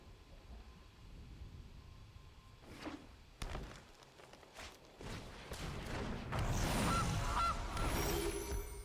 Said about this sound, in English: Have a goose.